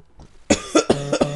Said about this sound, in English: I have no clue why I'm coughing, though.